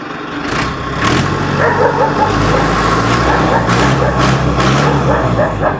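A village tractor for sale is revved hard and close, a dense continuous engine roar with occasional sharper surges that lasts the whole stretch.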